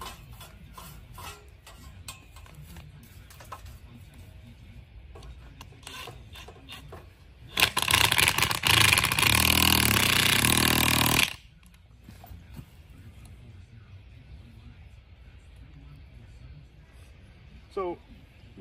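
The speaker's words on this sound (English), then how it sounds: "We're using the big impact, it's got the socket head" A big impact driver fitted with a socket head drives tie downs into the ground for a Quictent greenhouse, hammering in one continuous burst of about four seconds, with quiet handling noises and someone talking before and after.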